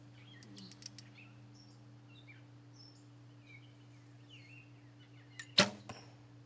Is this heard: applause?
no